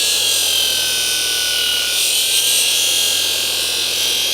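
A farrier chamfers the branch of a horseshoe, producing a loud, continuous, hissing grind that stays steady throughout, with no voices over it.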